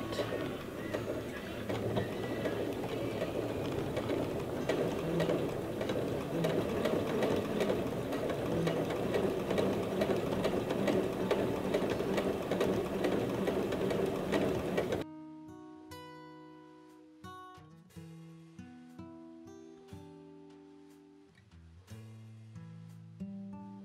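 A sewing machine stitches a bag, running in a steady, even mechanical rhythm close by for about fifteen seconds before it stops and music takes over.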